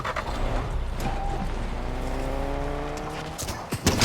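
A car in the video game Fortnite, driven out of Faulty Splits, hums and revs under steady engine drone with light mechanical clatter, moderately loud throughout.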